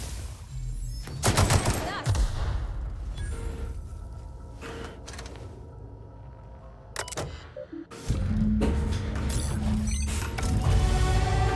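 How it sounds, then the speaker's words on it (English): A grenade launcher fires in The Outer Worlds: several loud, sharp bursts come in clusters with mechanical clatter and quieter game ambience between them. "Nyoka's got a grenade launcher."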